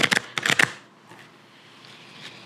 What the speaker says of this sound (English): Let's get us 3 more shuffles here. 3 more good shuffles.